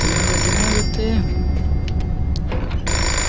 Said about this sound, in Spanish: Tengo que coger el teléfono.